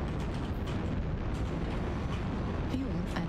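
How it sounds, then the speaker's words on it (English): Artillery strike blasts in the mech combat game MechWarrior Online, a continuous low rumbling roar of explosions with scattered sharper pops, steady and fairly loud throughout, with a brief voice-like tone near the end. "Artillery strike online."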